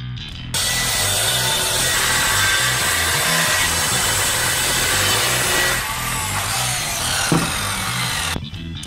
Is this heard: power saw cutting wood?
yes